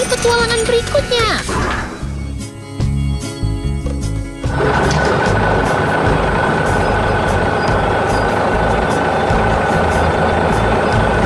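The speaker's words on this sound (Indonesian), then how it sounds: "Wah, ada truk hijau tua lewat." A dark green truck drives past in a 3D heavy machinery animation, rumbling loudly and steadily after a brief quieter stretch, with a child-like voice speaking at the start.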